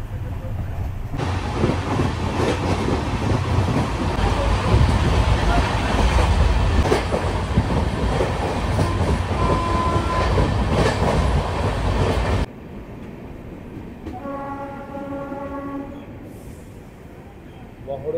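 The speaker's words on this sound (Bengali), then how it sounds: "আর 186 কিলোমিটার রাস্তা অতিক্রম করে আমাদের ট্রেন এসে পৌঁছালো বহরমপুর কোর্ট" Passenger train on the Sealdah–Jalpaiguri Road Humsafar Express route running into Berhampore Court station, with loud, steady rumbling and wheel clatter heard from on board. The noise drops away near the end, leaving quieter tonal sounds.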